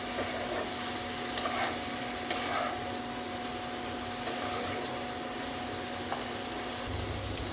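A paste of onion, garlic and ginger with chili powder and turmeric sizzles softly and steadily in a pan, with occasional faint scrapes from stirring.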